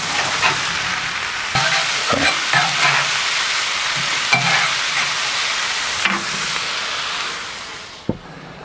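Burger patties frying in a pan, a loud steady hissing sizzle close up, with several spatula scrapes and taps as they are turned and a sharp knock near the end, no talking.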